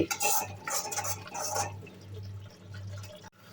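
A spoon stirs tomato paste frying in oil in a pan for dhaba-style dal makhani, with close scraping and clinking for the first couple of seconds, then a softer, steady sizzle.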